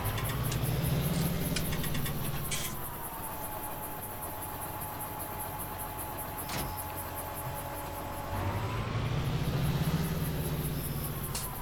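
A John Deere tractor engine runs with a steady low rumble that eases off in the middle and swells again near the end, with a thin high whine above it and no talking.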